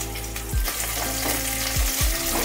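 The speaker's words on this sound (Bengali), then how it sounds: "এবার কড়াইয়ে তেল গরম হয়ে গেলে আমি এগুলো ঢেলে দিচ্ছি ভাজার জন্য।" Salted, turmeric-coated bitter gourd slices fry in hot oil in a wok, a loud continuous sizzle broken by a few sharp low thumps and scrapes, with no talking.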